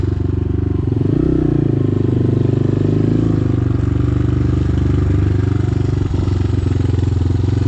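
A Zongshen RFZ 250 Chinese motorcycle engine runs close by, a loud, steady droning hum with a brief shift in pitch early on, then a sustained even note throughout.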